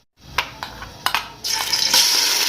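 Ginger-garlic paste goes into hot ghee for chicken biryani: a few sharp clinks of a utensil against the pan, then a sudden loud, sustained sizzle as the paste starts to fry.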